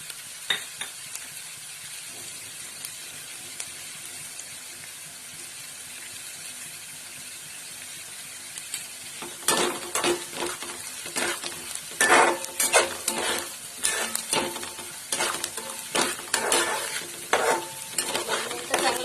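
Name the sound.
onion poha mixture frying with turmeric and salt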